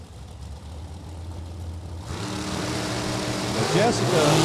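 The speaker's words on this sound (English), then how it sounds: "That's a McIlvain chassis dragster." A McIlvain chassis dragster's engine at a drag strip, idling low and steady, then rising louder and rougher as it revs under a commentator's voice.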